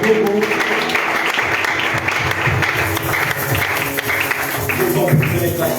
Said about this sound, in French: Est-ce qu'on peut donner à Jésus des acclamations?